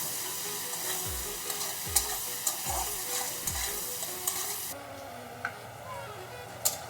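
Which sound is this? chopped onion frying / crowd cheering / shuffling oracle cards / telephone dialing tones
chopped onion frying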